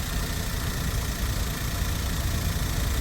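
A used car's engine idles steadily during an inspection, with the oil cap area checked for spitting oil. A loud, constant low rumble and hum runs throughout, and no talk is heard over it.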